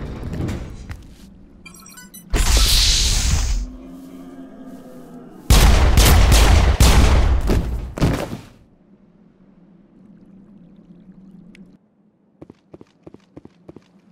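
Gunfire in the video game Mass Effect 1 comes as heavy, loud bursts and sustained blasts, followed by a quieter stretch with a rapid series of short, sharp shots near the end, with no talking.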